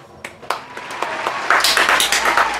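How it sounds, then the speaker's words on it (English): Sparse single hand claps at first, then a denser burst of clapping that swells toward the end, close and moderately loud over a quiet background. "Crayola, I'm clapping for you."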